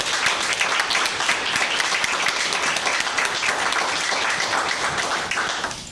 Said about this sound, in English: If you can join me giving them a round of applause.